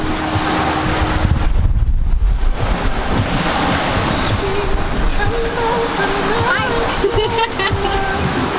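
Steady wind and rushing waves surround a sailboat under way at sea, a loud, continuous wash of noise with excited voices calling out over it.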